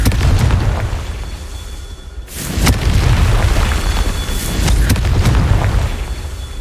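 A Confringo spell explodes in the Hogwarts Legacy video game, with loud booming blasts and bursts over a dense rumbling game soundscape.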